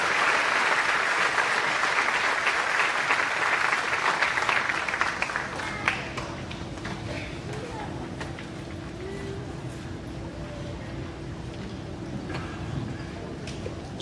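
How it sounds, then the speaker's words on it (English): Loud, sustained applause from a crowd at a 2023 high school graduation ceremony for scholarship recipients, dense clapping at first and then thinning and fading into a softer, steady patter with a few scattered claps near the end. "Please give a round of applause for all these"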